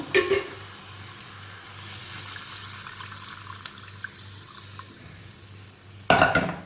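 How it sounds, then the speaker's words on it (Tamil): Water poured into a sizzling mutton trotter curry in a pan, a soft steady hiss and bubbling under low stirring noises, bracketed by louder clatters at the start and end, with no talking. "தண்ணி ஊற்ற போகிறேன்"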